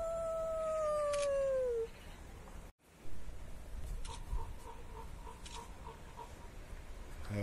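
A wolf at the Belgrade zoo gives a single long, clear howl that slides downward and fades. Quieter ambient zoo sounds and distant faint calls follow.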